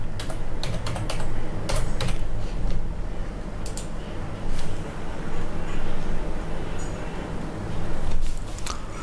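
Fast typing on a computer keyboard, with close, crisp key clicks in quick irregular bursts and a few louder taps, over a low steady background hum.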